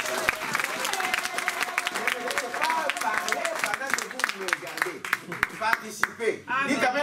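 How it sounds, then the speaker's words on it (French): A church congregation bursts into applause and acclamation during a pastor's sermon. The clapping is dense and sustained throughout, with cheering voices mixed in and a voice speaking near the end. "Donnons quand même une acclamation."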